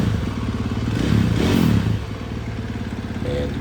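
Husqvarna FS 450 motorcycle engine idling close by, a steady low rumble with a brief swell in the middle, no talk.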